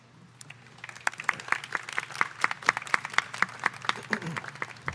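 Scattered audience clapping at a school commencement for the class of 2022, with distinct individual claps over a steady low hum, building to a moderately dense patter before tapering.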